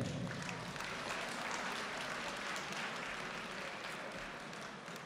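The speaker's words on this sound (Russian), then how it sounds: "Ваши аплодисменты!" A crowd at a professional boxing event in Narva claps steadily and fairly loudly for several seconds, a dense, even wash of applause that eases slightly toward the end.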